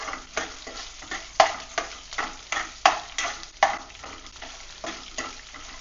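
Chopped onions sautéing toward golden for coriander rice, a soft sizzle under repeated spatula strokes against the pan, regular scraping knocks roughly every half second, close and clear, no talking.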